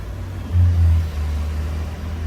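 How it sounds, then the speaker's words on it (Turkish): A BMW X5 E53 SUV with a 3.0 diesel engine and original exhaust idles with a low, steady rumble, swelling briefly into a deeper throb before settling back, close by with no voices. "Egzoz sistemi var baştan sona orijinal. Baya bir böyle buk buk buk buk buk falan yapıyor."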